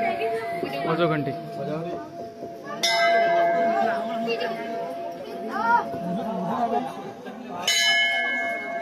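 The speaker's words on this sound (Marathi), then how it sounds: "वाजव घंटी." A temple bell at a Mahalakshmi temple in Shegaon is struck twice, each ring sharp and sustained over ambient chatter and children's voices nearby.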